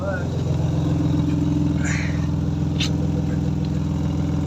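Steady idle of a BMW 328i fitted with a custom-made exhaust line, a low, even engine drone held without revving, with a couple of brief higher noises and people talking over it.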